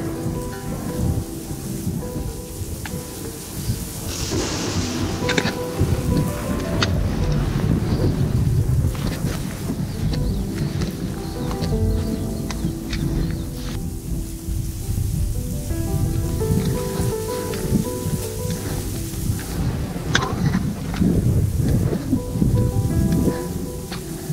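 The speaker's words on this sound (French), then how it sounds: "vu la météo, orage sur orage, pas mal de flotte" Heavy rain from a thunderstorm pours down in a dense, continuous wash, with deep rumbles of thunder rolling through and gusts of wind pushing against the microphone, loud and close with no talking.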